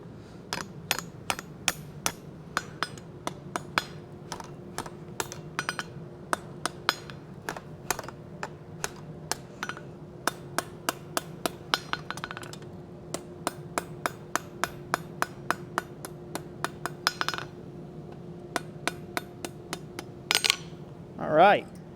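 A hammer strikes hot steel on an anvil while a Nordic wolf head door knocker is forged, dozens of sharp ringing blows in irregular bursts at close range, a faint steady hum underneath and brief talk near the end.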